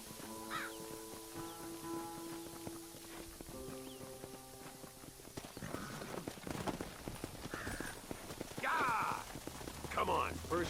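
Horse hooves clip-clopping in the Red Dead Redemption video game, a busy run of light knocks under game music, with crows cawing and people talking over parts of it.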